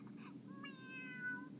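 A cartoon cat meows in the EduKity ABCs preschool educational game, two short high tonal meows, clear and close over a soft steady background hum.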